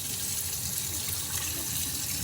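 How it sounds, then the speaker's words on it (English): Vinegar used to bathe ribs is dumped into a sink, a steady, close gushing pour of liquid running down the drain without a break. "Now I'm going to dump this vinegar"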